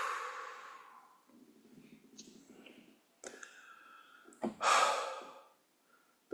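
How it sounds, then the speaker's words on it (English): A person breathing out during a guided meditation, slow audible breaths and sighs, close and soft, with a louder exhale near the end. "breathe it out"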